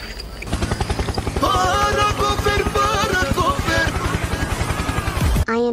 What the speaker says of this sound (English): Next try. Helicopter potion.